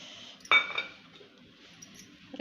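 A spoon clinks sharply once against a bowl as sprouted moong beans are stirred with chutney, followed by softer scraping and faint tapping in a quiet kitchen.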